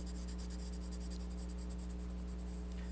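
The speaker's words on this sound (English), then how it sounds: "I'm just going to draw a little line right next to the side of the candy cane, and then I'm going to color it in." Light pencil strokes on paper while shading a thin line beside a drawn candy cane, a soft steady scratching that continues alone over a low constant hum.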